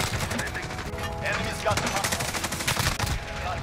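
Rapid bursts of automatic gunfire from a Bruen MK9 in a Modern Warfare 2v2 gunfight, dense sharp cracks in quick succession running nearly the whole time, loud and close.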